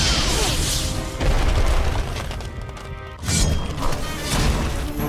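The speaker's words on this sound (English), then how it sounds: "There we go, missile barrage it." A video game missile barrage detonates in a steady, roaring wall of booms and crashes that stays loud throughout, swelling again after a short dip near the middle.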